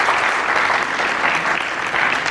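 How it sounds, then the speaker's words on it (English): An audience at a TiE Lucknow entrepreneurship panel applauds the speakers, a steady, full burst of clapping from a seated crowd throughout. "Can we have a round of applause for our speakers?"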